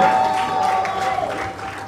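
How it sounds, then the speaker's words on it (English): Audience applause at an award ceremony, a broad wash of clapping with some cheering, mixed under a sustained tone that fades midway. "Please give him a round of applause for Peter Guru."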